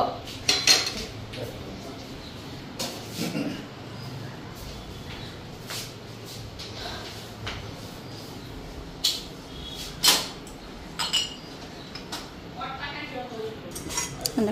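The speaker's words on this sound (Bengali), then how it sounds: "কড়াই বসাই দিলাম" Metal cookware clanks and scrapes on a stovetop as a wok is set down, several knocks scattered over a quiet kitchen with faint speech.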